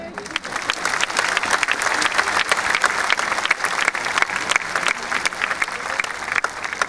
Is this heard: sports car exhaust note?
no